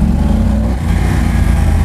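A Yamaha Super Tenere motorcycle engine pulls steadily in second gear, a loud, close, continuous mid-range drone with a constant deep low end throughout.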